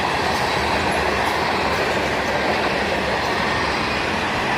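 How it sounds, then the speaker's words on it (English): A CSX freight train hauls a long cut of tank cars, mostly loaded with LP gas, past at close range, a loud steady rumble with wheel clatter filling the whole stretch. "And a fairly big cut of tank cars."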